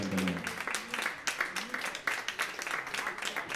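Applause from a concert audience, a dense patter of many hands clapping at moderate distance and fairly steady throughout, with a voice speaking briefly at the start.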